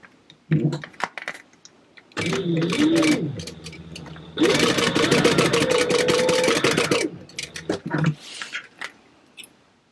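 A sewing machine stitches a clear vinyl bag in two sustained runs of steady mechanical whirring, the second longer, with shorter bursts of machine clatter and handling noise around them.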